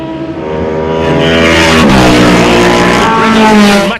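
Historic racing cars accelerate hard on a restart after the safety car: loud, close engine howls rise and overlap in pitch as the field sets off, with no talk.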